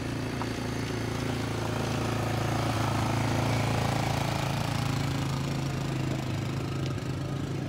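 A motorcycle engine idles steadily up close, a continuous low rumble with no voices over it.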